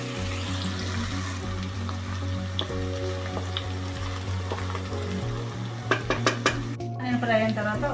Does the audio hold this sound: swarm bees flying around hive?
no